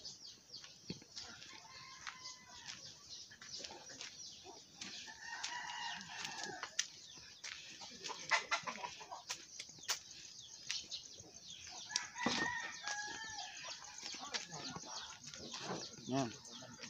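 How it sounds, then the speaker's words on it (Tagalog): Native chickens in a rural provincial yard, hens clucking and a rooster crowing intermittently at moderate distance, with a voice talking faintly among the birds. "Native na manok yan guys."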